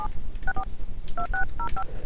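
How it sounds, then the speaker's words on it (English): Keypad dialing tones from a desktop softphone: a quick run of short, clear beeps in uneven groups, like digits being entered one after another over a low background hum. "I'll dial my cell phone because that's easy for me to do"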